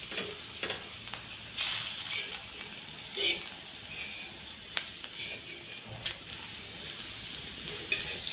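Food sizzles and fries steadily in a pan on a home stove, a continuous crackling hiss with occasional sharper pops and spatters throughout.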